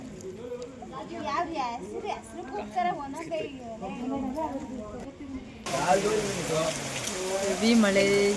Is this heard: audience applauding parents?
no